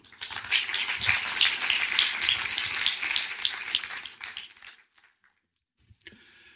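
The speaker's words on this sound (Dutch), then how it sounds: "Graag een heel groot applaus voor René ten Bos en Arjen Kleinerenbrink." Applause from a lecture audience fills the hall, a dense, steady clatter of many hands clapping for about four seconds before fading out into near silence.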